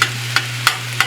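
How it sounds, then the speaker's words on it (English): Food sauteing in grapeseed oil in a pan, with sweet potato mentioned: a steady low hum runs under it while four brief, regularly spaced stirring scrapes and sizzles stand out clearly, no talk. "I saute it with grapeseed oil"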